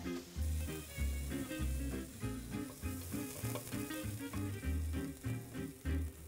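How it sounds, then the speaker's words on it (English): Fish and noodles sizzle and crackle steadily in a hot pan, with rhythmic stirring scrapes and tosses throughout, up close and fairly quiet. "And you're frying it up with the noodles"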